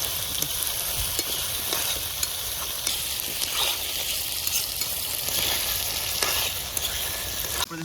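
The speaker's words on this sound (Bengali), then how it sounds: "আমরা এখানে কিন্তু আলু আর পেঁয়াজটাকে একসঙ্গে ভেজে নিচ্ছি" Potatoes and onions frying together in a pan for a village-style dish, giving a continuous, even sizzle with occasional soft stirring clicks, close and moderately loud.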